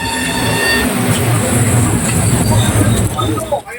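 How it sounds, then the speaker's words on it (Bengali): The Ganadevta Express pulls into Sheoraphuli station eleven minutes late, a loud, close rolling rumble of wheels and carriages with thin metallic squeals riding on top, easing off in the final moment. "ট্রেন শ্যাওড়াফুলি স্টেশনে পৌঁছালো নির্ধারিত সময়ের থেকে এগারো মিনিট লেট"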